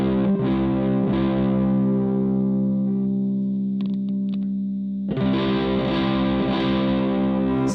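Distorted electric guitar with no treble bleed capacitor, chords ringing with effects-laden sustain, a short quieter gap with scratchy string noise midway, then a loud strummed return, close and continuous.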